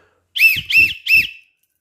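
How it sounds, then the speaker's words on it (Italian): A referee's triple final whistle ending a Serie A football match: three short, loud, shrill whistle blasts in quick even succession, alone. "fischiamo il triplice fischio"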